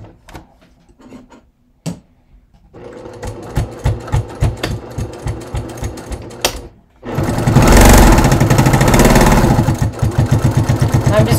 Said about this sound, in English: I'm going to top stitch down one side, and I'm going to pivot at the bottom just to kind of base those edges together.